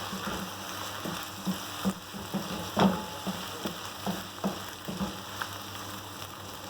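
Beef karahi with crushed red chilli and white pepper frying in a pot on a medium flame, a steady low sizzle broken by regular soft stirring knocks, close and fairly quiet.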